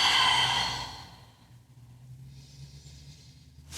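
One deep, loud exhale at close range during a postnatal stretching exercise, tapering into quiet, followed by a softer breath drawn in.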